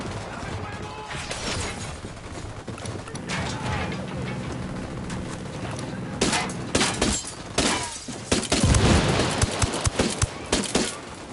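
Gunfire and crashing impacts from a PS4 action game build over an ongoing mix of game sound, becoming louder and denser bursts near the end, with a voice heard at times.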